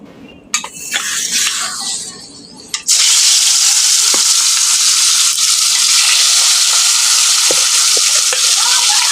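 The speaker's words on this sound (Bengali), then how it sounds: "তেল গরম হয়ে গেছে এখন আমি মাছগুলোকে ভেজে নেব" Fish rubbed with turmeric and salt, a Bengali cheppti fish, hits hot oil in a loud, steady sizzle that swells after a few seconds of clattering and then hisses on without a break, close up, with faint ticks and pops.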